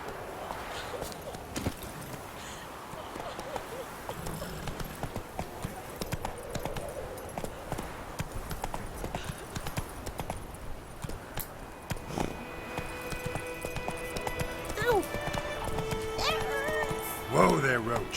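Horse hooves clip-clop at a steady walking rhythm in the Witcher 3: Wild Hunt video game, continuing throughout over game background sound and occasional speech.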